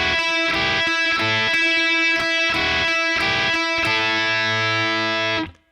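Distorted electric guitar plays a riff, clipped chugging notes in rhythmic bursts giving way to a sustained ringing section before cutting off, loud and alone.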